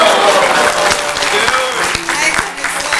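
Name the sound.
applause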